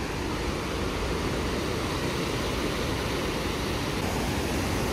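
Shell Falls in Montana roars as a steady, loud waterfall, a dense broadband rush of water that stays constant and close throughout with no voices.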